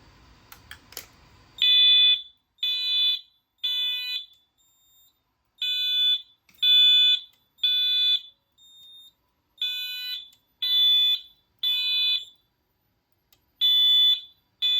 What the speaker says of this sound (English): Now let's test the smoke detector.